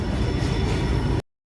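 A train at a station platform in Viramgam gives a loud, dense rumble of rolling wheels and carriages close by. It cuts off abruptly after about a second, with no talk.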